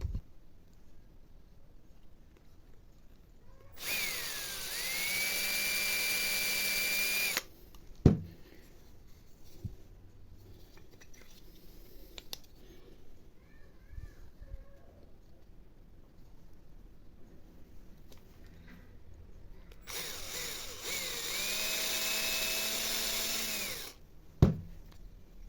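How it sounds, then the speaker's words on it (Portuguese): An electric drill bores holes in wood for dowel joints in two separate bursts, each a few seconds long, with the motor whine rising and holding steady. Quiet handling noises fill the gap between the bursts. "vou partir para fazer a furação"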